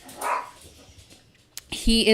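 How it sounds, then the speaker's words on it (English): Dogs bark at a man arriving home, a few sharp barks and yips bursting in near the end after a quiet stretch with faint background sounds. "My husband is home, so the dogs are barking."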